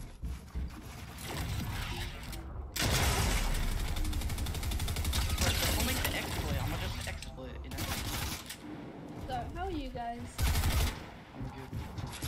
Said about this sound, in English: this man just uses an SMG